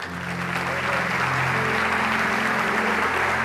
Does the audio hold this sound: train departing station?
no